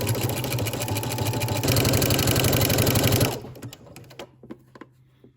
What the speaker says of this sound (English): we're going to go to the sewing machine and we're going to stitch a 3/8 inch seam